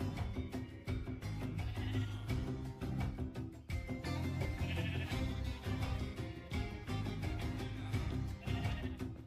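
Sheep in Minecraft bleat repeatedly in short, wavering calls, packed closely together over a dense, continuous backdrop of other game sounds.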